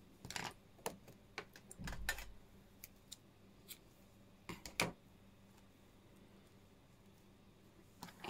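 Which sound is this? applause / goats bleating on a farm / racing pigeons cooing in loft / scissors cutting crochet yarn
scissors cutting crochet yarn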